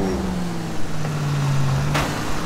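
An old car engine in the L.A. Noire VR video game runs with a low, loud, close hum whose pitch shifts slightly as it revs, with a brief sharp noise near the end.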